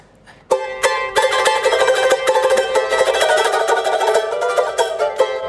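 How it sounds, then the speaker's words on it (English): Fast Cook Islands tamure rhythm at 190 BPM, a dense, bright strummed or plucked string pattern with steady rapid accents, played alone and fairly loud after a brief quiet start. "190 would be a tamure, which would sound something like this, RJ would say"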